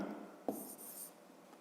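A pen underlining on paper during a fifth-grade maths exercise: one quick, close scratchy stroke lasting about half a second, soft and dry, with no talking over it.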